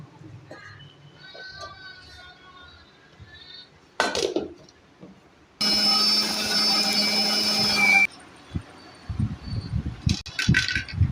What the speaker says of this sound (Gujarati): અને હવે આને નાખી દેવી મિક્સરમાં.